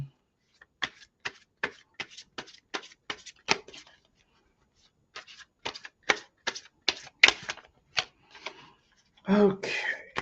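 Tarot cards are shuffled in short repeated riffling bursts, crisp and close, with pauses between runs and a brief bit of speech at the end.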